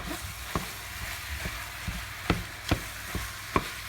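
Hamburger and Italian sausage sizzle softly in a pan as they are stirred together, with intermittent scraping clicks and taps from the utensil standing out over the low, steady frying hiss.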